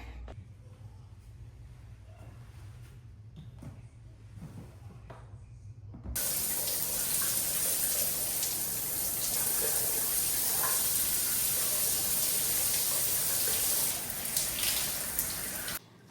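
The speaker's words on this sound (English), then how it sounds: "I'm about to go shower." A shower starts running partway through, a steady, loud broadband hiss of water spray that follows a quiet stretch of room tone and continues to the end.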